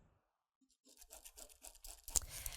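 A friction pen draws a line along a ruler on fabric, a short series of soft, close scratchy strokes following a brief silence, ending in a sharper tap.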